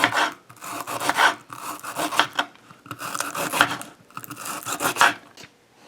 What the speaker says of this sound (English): Now you're going to cut them like that.